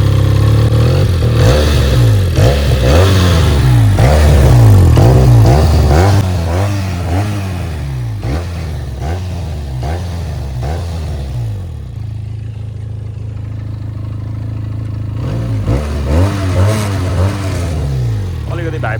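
A Benelli 302S motorcycle with stock exhaust and about 45,000 km on it revs repeatedly up close, its loud engine rising and falling in bursts, then idling before revving again.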